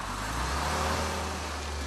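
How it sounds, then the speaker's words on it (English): A Porsche Panamera V6 engine restarts after a stop-start shutoff and idles steadily with a low rumble, its hum holding close and even throughout without any talking. "as soon as he lifts his foot from the brake, the engine starts back up"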